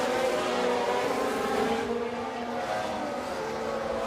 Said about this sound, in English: Look at this train of cars.